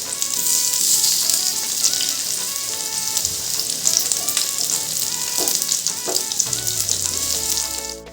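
Alu vadi, colocasia-leaf rolls, fry in oil over a low flame with a constant close hissing sizzle, broken by a few soft scraping stirs, without any speech.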